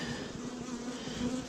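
Honeybees swarming around hive frames as nucleus colonies are moved into full hives, a close, steady buzzing drone with no voices.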